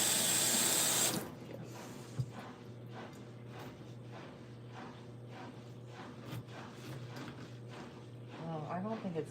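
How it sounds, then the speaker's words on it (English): Fruit rinsed under a running kitchen tap: a loud opening burst of water, then quieter trickling and splashing with small handling clicks, close by, ending with water rising again. "Rinse it off before I start cutting it."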